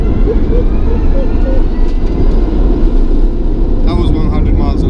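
Rimac Concept One, a nearly 1,300 horsepower electric hypercar, accelerating hard, with a steady loud roar of motor whine and wind and road noise throughout, plus a brief higher whine near the end.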